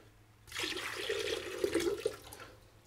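Water is poured out of a container during repotting of a large Monstera houseplant, a steady splashing pour lasting about two seconds, fairly close and alone.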